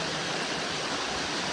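Steady broadband rush of flowing water in Sharan Forest, continuous and close, with no other sounds standing out.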